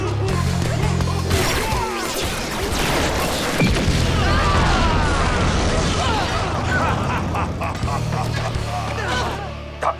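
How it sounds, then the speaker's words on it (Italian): Gas-filled spheres burst in a Power Rangers Dino Fury cartoon, giving a run of booming, crashing explosions and debris sounds that fill the whole stretch, with voices heard among them. "Quel gas sta provocando le esplosioni!"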